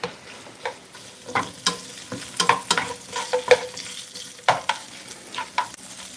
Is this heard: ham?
yes